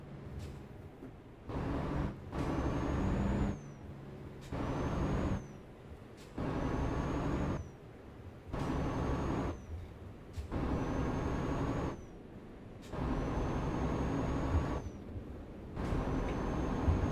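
A heavy truck engine labors and strains uphill in Euro Truck Simulator, driving through China, with a steady loud drone cut by repeated pauses and hissing air-brake bursts at regular intervals.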